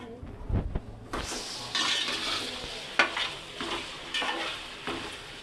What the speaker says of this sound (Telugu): ముందుగా చికెన్ అయితే శుభ్రంగా కడుక్కుని ఫ్రై చేస్తున్నాను